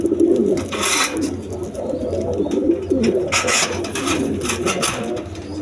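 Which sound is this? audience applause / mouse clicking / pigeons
pigeons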